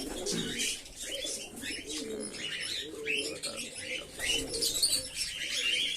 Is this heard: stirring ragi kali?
no